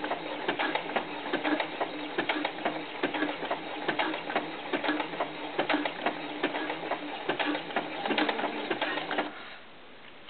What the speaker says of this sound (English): there's the ribbing, the neck ribbing, and I am just sewing right along